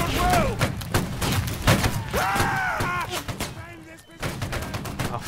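Musket volleys crackle through a Napoleonic Wars battle in the game Battle Cry of Freedom, with repeated sharp shots, shouting voices and whistling tones layered over a busy battlefield din.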